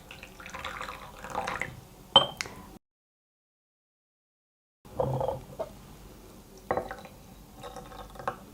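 Hot water poured over teaware to warm it before brewing white tea, with soft splashing, trickling and a few light clinks of cups, split by a brief silent gap, then more pouring and clinking up close.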